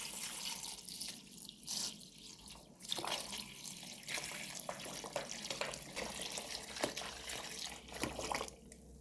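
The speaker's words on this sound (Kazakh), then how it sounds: "Енді үстіне мұздай 5 литр көлемінде су құямыз." About 5 litres of ice-cold water runs steadily from a tap or jug into a pot of dried fruit and rock sugar for compote, a continuous splashing trickle at close range with a few clinks, no voices.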